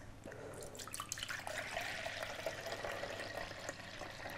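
Orange juice, 1.25 cups, pours into a bowl of Bircher muesli in a home kitchen, a steady close liquid splash and trickle running continuously for several seconds with no talk.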